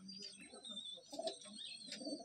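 Madrasi pigeons in a loft at Basirhat coo in soft, low bursts amid faint chirps and background noise, fairly quiet and close.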